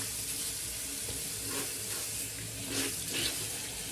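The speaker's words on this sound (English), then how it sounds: "I'll wash my hands again" Water runs steadily from a tap into a sink during handwashing, a close, continuous hiss and splash that shifts slightly as hands move under the stream.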